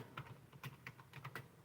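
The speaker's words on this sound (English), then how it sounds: "my typing is horrible" Quiet, close taps on a computer keyboard arrive in an uneven burst of keystrokes, with no voice over them.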